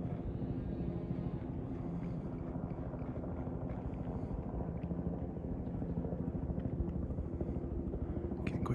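A helicopter flies overhead at a distance, its rotor making a steady low thrumming drone with some wind buffeting the microphone.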